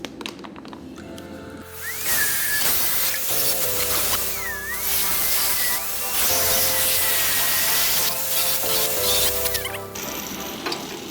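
An angle grinder cutting and grinding metal during a car build, a loud, continuous high-pitched whine and harsh hiss with the pitch wavering as the disc bites, after a short quieter lead-in.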